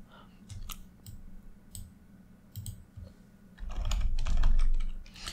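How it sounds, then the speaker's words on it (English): Keys clatter on a computer keyboard while JavaScript code is written, sparse close clicks at first, then a faster dense burst of typing with thumping strokes toward the end. "now I'm gonna focus here and do some mostly typing until I"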